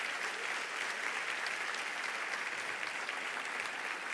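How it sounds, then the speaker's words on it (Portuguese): Church congregation applauding during an evening service, a steady wash of many hands clapping that stays soft and distant throughout. "Você pode usar suas mãos para dar um aplauso ao nome do Senhor essa noite?"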